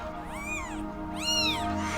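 A kitten with a badly twisted leg meows twice at a vet clinic, two rising and falling cries close to the listener, the second louder, over a steady low background hum.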